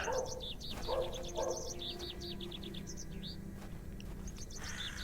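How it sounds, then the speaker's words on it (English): Small bird chirping in the point-and-click adventure game Hob's Barrow, a steady run of quick high tweets and trills over a low ambient hum, with no talk. "It's just an idle animation bird."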